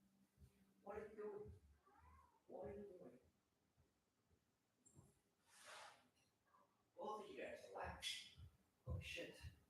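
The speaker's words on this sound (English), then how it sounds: "these cats they're going crazy for some reason" Cats meow and yowl agitatedly indoors, several scattered strained cries and caterwauls interleaved with a person speaking nearby.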